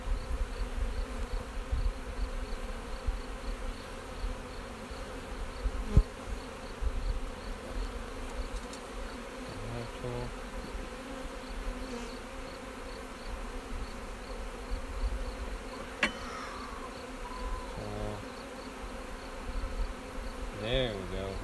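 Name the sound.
honey bees buzzing on a hive frame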